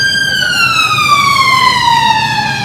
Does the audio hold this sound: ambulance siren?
yes